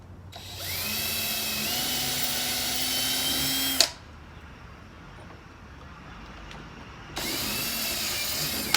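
A power drill with a 1/8 inch twist bit whirs loudly for a few seconds while drilling holes to install a storm window, stops, then starts up again after a short pause.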